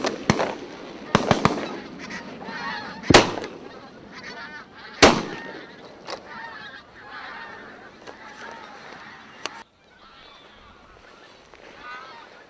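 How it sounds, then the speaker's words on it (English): Geese honk loudly overhead during a goose shoot on Orkney, broken by several sharp, booming shotgun blasts spaced a few seconds apart. Faint voices may sit beneath the cackling flock. "The geese are still coming overhead in numbers, and this time the command to shoot does come."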